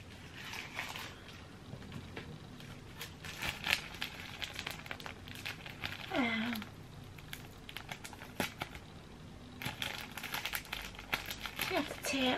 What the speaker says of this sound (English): You have to tear along that line.